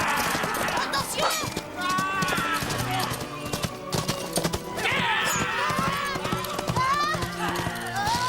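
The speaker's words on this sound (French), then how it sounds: "On dirait des chevaux." Busy, loud scene of galloping horses, hooves clattering and horses whinnying amid shouting voices and crowd noise, with running footfalls throughout.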